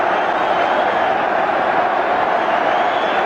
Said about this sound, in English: Turns to the north bank and deserves their applause.